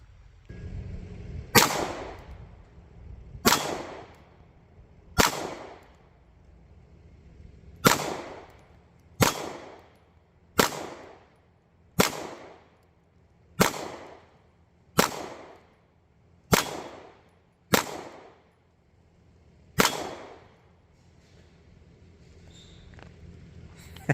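Pistol shots at a shooting range, fired through a Votatu PMD504 red dot sight from about 10 yards: eleven sharp, loud reports in a fairly steady rhythm roughly two seconds apart, each with a short ringing decay, and no talking.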